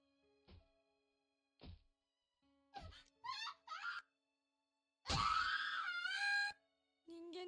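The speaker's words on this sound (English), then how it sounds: "I've never heard screaming like this before." A boy screaming in terror in the horror video game Corpse Party, sparse thuds leading to a long, loud, strained scream, then a brief cry at the end.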